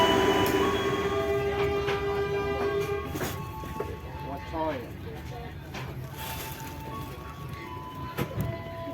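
A Motis economy train departing Cirebon Prujakan station, with a tonal horn or announcement chime at the start, then rumbling rail and carriage noise, clanks and squeals while people talk nearby.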